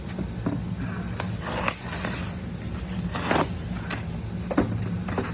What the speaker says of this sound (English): You can use an Allen wrench to cut tape